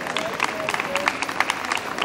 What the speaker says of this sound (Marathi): एकदा तुमच्या सर्वांसाठी स्वतःसाठी तुम्ही टाळ्या वाजवून द्या